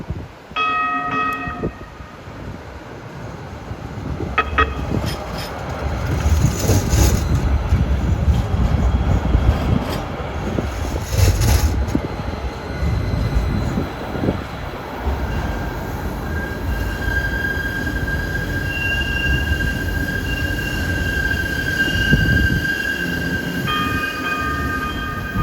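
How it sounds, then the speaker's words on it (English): A New Jersey Transit Hudson-Bergen Light Rail train in Jersey City rumbles past at close range, its wheels letting out long high metallic squeals over a steady low roar. "There's a Bayonne bound train."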